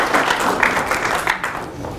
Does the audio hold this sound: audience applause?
yes